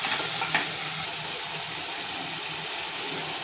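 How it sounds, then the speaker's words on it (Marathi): Ground masala sizzles and fries in a pan for a curry (kalvan), a close, continuous crackling hiss that stays steady, with no voices. "आपल्याला एक पाच मिनटं असं त्याच्यामध्ये परतून घ्यायचं आहे"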